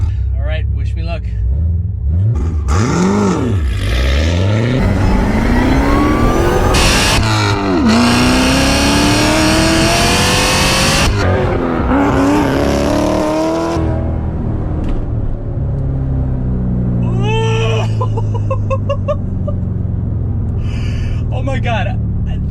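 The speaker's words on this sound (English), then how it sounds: "that was just me giving it just a little bit of gas and really not taking advantage of that full launch control system" A C7 Corvette Z06 launches from a standstill with traction control in its regular mode. The engine roars loud and close, its pitch sweeping up through several gear changes before easing off, with a brief gasp near the end.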